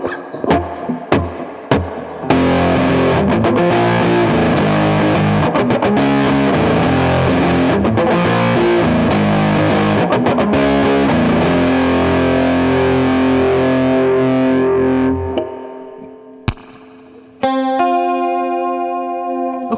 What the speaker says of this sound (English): we're gonna click on the DS2 Turbo Distortion. Looks and sounds like this.